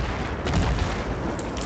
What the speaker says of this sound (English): I barely ran away from the explosion in time